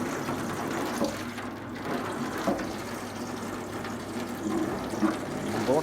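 A low-pressure water hose rinses a screen printing screen, a steady hiss and splash of running water that stays fairly even and close throughout.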